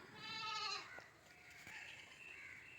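A goat kid gives a single close, wavering bleat that fades after about a second, leaving quiet background.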